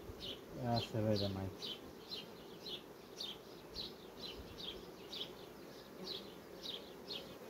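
Honeybees buzz steadily around a hive during a check of queen cells, a close continuous drone, while a voice speaks briefly near the start.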